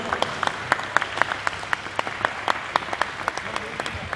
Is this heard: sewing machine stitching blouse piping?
no